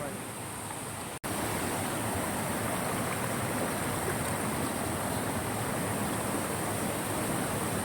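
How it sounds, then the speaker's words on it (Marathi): Palasdhari waterfall gives a constant broadband rush of falling water after a brief cut at the start, steady and enveloping with no clear speech. "बघा धबधबो केवढं मोठं असा"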